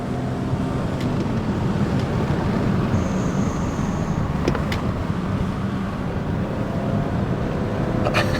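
BMW E34 M5 with the 3.8 engine, right-hand-drive European model, driven on curvy roads: a steady, loud, close engine and road drone that persists throughout with no talk.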